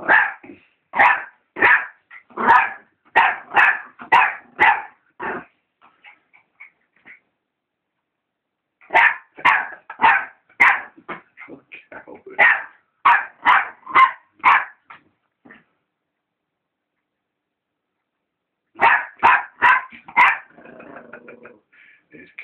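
A dog barks in rapid bursts of several loud barks, pausing between volleys, close by with little else around.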